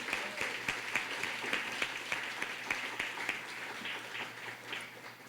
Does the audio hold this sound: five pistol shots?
no